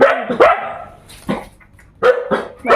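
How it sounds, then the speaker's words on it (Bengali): A dog barks in several sharp bursts at close range inside a century-old house, the barks spaced by short gaps while the dog plays roughly and climbs on a person. "এই দেখো কুকুর কী করছে আমাকে পিঠের ওপর"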